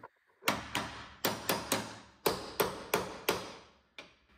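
An impact wrench tightens wheel lug nuts in a series of about ten sharp, loud hammering bursts, each cutting off quickly, separated by brief pauses. There is no talking.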